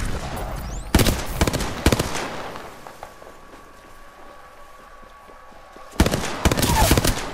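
Loud, close gunfire in an Apex Legends firefight, with rapid bursts at the start, a quieter stretch in the middle and another heavy burst near the end.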